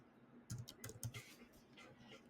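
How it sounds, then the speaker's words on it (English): Quiet computer keyboard typing as a URL is entered, a short burst of soft clicks from close by, lasting about a second before fading. "So we'll type in the URL"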